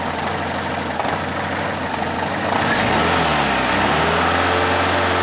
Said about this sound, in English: So if I rev my engine up,